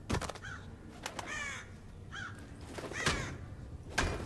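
Crow caws in the Thief video game, several harsh calls repeating in irregular bursts, loud and close with no talk over them.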